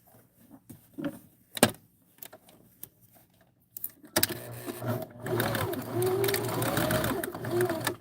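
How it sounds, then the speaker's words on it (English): Sparse clicks and shuffles give way to a sewing machine running continuously at a close, fairly loud level, back stitching at the end of a seam on a live sewing stream. "make sure you back stitch"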